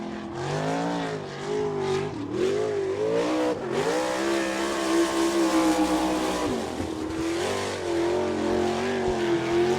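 McCauley Tools number 31 sprint car of Chuck Wilson on a qualifying lap at Attica, Ohio in an All Star Circuit of Champions event, its engine roaring loudly with rising and falling revs through the turns, no talk heard.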